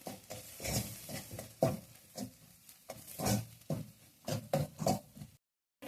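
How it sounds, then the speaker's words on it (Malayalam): Spoon stirring chicken masala spices in a pan for Kerala-style chicken perattu, a series of close, irregular scraping and clinking strokes with brief pauses, ending abruptly. "ഇവരുടെ റോ ടേസ്റ്റ് ഒന്ന് മാറുന്നവരെ ഒന്ന് ഇളക്കി കൊടുക്കാം"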